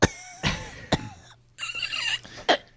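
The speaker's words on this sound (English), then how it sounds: "one of our fighters is coughing like mad" A person coughing hard, several harsh close coughs in uneven bursts with short gaps and a throat-clearing rasp in between.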